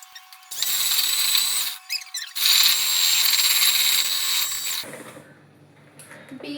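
An electric beater whirs loudly in a mixture in two long bursts with a short pause between them, then stops into quieter clatter and handling.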